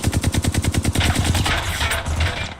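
Automatic gunfire in the battle royale shooter Apex Legends, a rapid burst of evenly spaced loud shots for about a second, then a denser rattling wash of firing and impacts that trails off.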